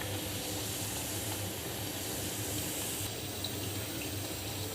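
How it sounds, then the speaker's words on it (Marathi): Rice-flour vada frying in hot oil, pressed down with a slotted spoon: a steady, dense, hissing sizzle that holds at the same level from start to finish, with no one speaking. "वडा थोडा झाऱ्याने असा प्रेस करायचा म्हणजे चांगला फुगतो तेलात"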